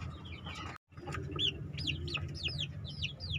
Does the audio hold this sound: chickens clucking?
yes